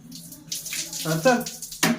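Water is poured over hands for washing, a short splashing trickle that comes in bursts while a person talks over it.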